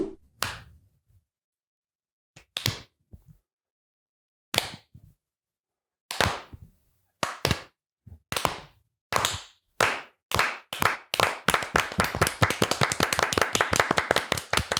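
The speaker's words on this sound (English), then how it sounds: "That's our first ever slow clap into a segment" A single slow clap between podcast segments: sparse, widely spaced hand claps that gradually quicken into fast, steady applause-like clapping, close and fairly loud, with no talking.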